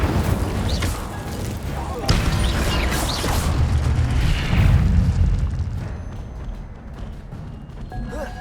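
An Incendio fire spell bursts in Hogwarts Legacy with a booming whoosh of flame that swells and fades over several seconds, mixed with game sound effects and music.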